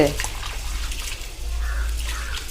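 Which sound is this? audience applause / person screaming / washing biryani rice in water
washing biryani rice in water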